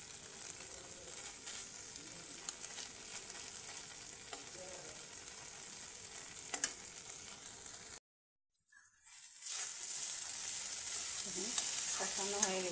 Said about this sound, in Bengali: ভালো করে লাগিয়ে চালিয়ে অল্প সময় থেকে মশলার মধ্যে কষানো।